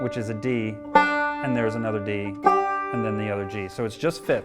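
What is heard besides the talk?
No everyday noise stands out behind the speech.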